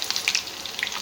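Chopped garlic hits hot oil already holding mustard seeds and cumin, giving a brief bright sizzle with a few sharp spits and pops, close and fairly loud.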